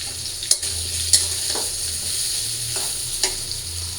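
Green chillies sizzle steadily in hot oil in a pan, a constant close frying hiss with a few sharp pops and clinks of stirring scattered through.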